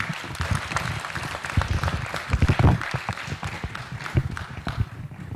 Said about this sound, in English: let us show a hand of applause for his accomplishment